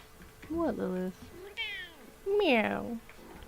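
A cat meows four times, close and clear, with drawn-out, rising and falling calls separated by short pauses.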